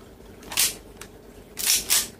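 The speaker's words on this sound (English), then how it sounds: "I'm going to have my chrono test run on my pistols." Tokyo Marui Hi-Capa airsoft pistol fired through a chronograph, three sharp close shots: one, then a pair about a third of a second apart, with a faint tick between.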